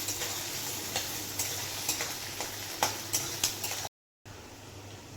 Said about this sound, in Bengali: এবার দিয়ে দেবো পেঁয়াজ। পেঁয়াজটা হালকা ভেজে তারপর টমেটো দেবো।